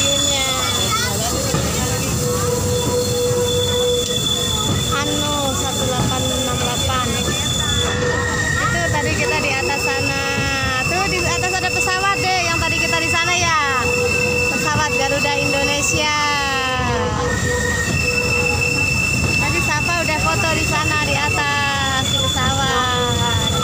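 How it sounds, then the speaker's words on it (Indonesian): A museum train at Taman Mini Indonesia Indah rumbles and clatters along the rails with repeated squealing wheels and a bright tonal whine, loud and continuous, while people talk throughout. "bentar lagi keretanya mau berangkat. Kita naik kereta."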